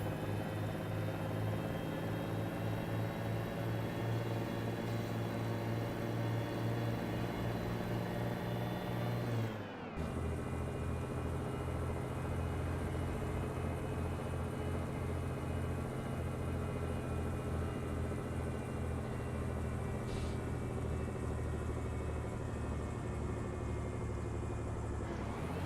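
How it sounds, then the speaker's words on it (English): A Mack B61 truck engine in American Truck Simulator drones steadily and loudly in a snowy drive, a deep harmonic hum holding constant with a brief dip partway through before resuming at the same even pitch. "truck noise seems to be good on this."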